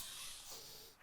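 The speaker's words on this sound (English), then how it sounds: "Whoa, Dylan, what did you just spray?" An aerosol spray can releases a steady, faint, breathy hiss for about a second, close by, with no talking over it.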